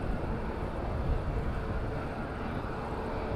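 A TUI airliner arriving from Brussels at Madeira airport gives a steady, broad engine roar that stays loud and unbroken throughout, with no talk.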